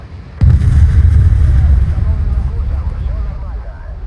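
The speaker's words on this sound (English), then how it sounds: "that was literally the engines. They just blew up" In War Thunder, a TU-14 bomber's overheated engines blow up with a sudden deep boom, followed by a heavy low rumble that slowly fades while a voice talks.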